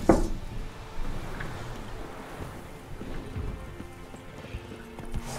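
Steady clip-clop of horse hooves in The Witcher 3: Wild Hunt plods along under wind and ambient game noise, moderately faint with no talking.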